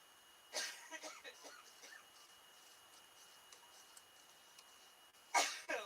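Two short, sharp coughs from a woman with a sore throat, one near the start and one at the end, close to the microphone, with quiet room sound and faint ticking between them.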